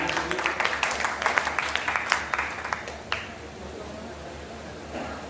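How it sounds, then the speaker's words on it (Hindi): Audience applause at a Hindi kavi sammelan (poetry gathering) in Maholi, honouring poet Ambika Tiwari: a brief burst of scattered clapping that fades after about three seconds into quiet room tone. "एक बार जोरदार इनके सम्मान में आपकी तालियां"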